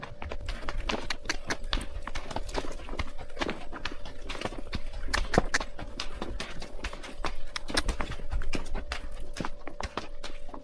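Steady, close clip-clop of horse hooves during a horseback ride through rocky, ruin-dotted country in Jordan, the uneven beats continuing without pause over a soft background hum.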